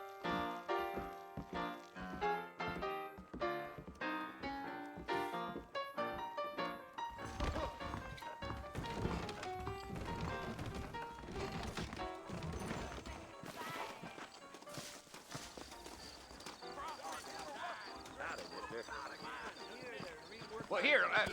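Horse hooves clip-clopping in Red Dead Redemption, rhythmic thudding steps that start distinct and then blend into a busier game scene, with people talking over much of it.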